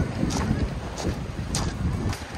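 Strong sea wind buffets a drone in flight over the water near an island on a winter Taiwan loop trip, a rough continuous roar with gusty bursts and faint voices underneath.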